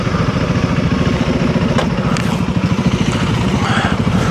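A Honda CRF300L dual-sport motorcycle, likely from a loose rear rack, gives a loud, steady engine chug at close range with metallic clatter and rattling layered over it throughout, no speech.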